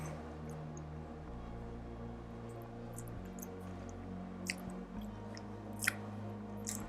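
Close, soft chewing of a spoonful of homemade Instant Pot vegetable soup with tofu, tomato, carrot, celery and onion, a steady quiet mastication with a few faint clicks over a low hum.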